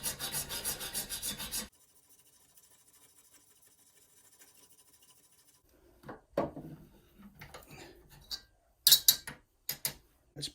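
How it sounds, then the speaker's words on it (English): A triangle file rasps against a metal piece clamped in a vise, opening up a slot. The filing comes in short, scattered strokes, some sharp and loud, separated by near-silent stretches after a brief burst of steady noise at the start. "put a triangle file in there and widen it up a bit"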